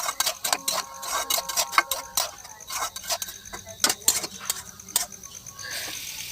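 Spices and salt are stirred in a pan, a metal utensil tapping and scraping in quick irregular clicks and clinks, fairly close, with quiet gaps between strokes and no talking.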